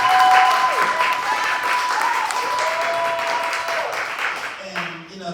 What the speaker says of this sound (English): So they're to be applauded.